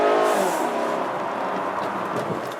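A Mazda 3 in sport mode downshifts, the engine note blipping up sharply and then settling into a steady, close revving hum over a couple of seconds.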